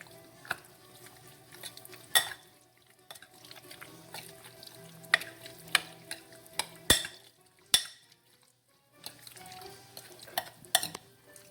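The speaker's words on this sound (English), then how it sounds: "we're just going to stir it all together" Chicken and orzo stirred together in a pot, with intermittent spoon clinks and scrapes against metal over a faint low sizzle.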